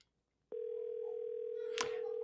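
A telephone ringback tone during an outgoing call begins after a short silence and holds as one steady, clear electronic tone, with a brief noisy burst near the end.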